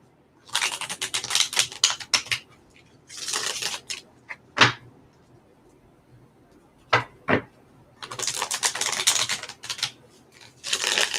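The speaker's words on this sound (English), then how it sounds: "I love the sound of shuffling cards." Playing cards are shuffled close up in several separate bursts of rapid riffling, broken by sharp taps and clacks of the deck being squared, with quiet pauses between.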